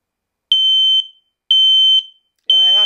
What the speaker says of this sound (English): This is only a test. The alarm will sound loudly.